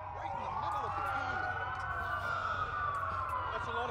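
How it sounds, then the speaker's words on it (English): Several police sirens in the video game Watch Dogs wail continuously in the distance, their overlapping rising and falling tones forming a steady chorus with some low rumble beneath. "That's a lot of sirens for a blackout."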